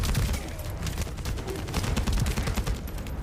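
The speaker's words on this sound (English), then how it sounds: "That stopped the gunfire" Rapid gunfire bursts from The First Descendant shooter game crackle steadily throughout, dense overlapping shots with a rumbling low end and no voices.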